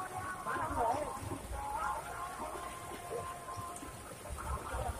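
Swarnrekha river water babbles and flows steadily at a bathing spot during Makar Sankranti, a soft continuous wash with faint splashes throughout.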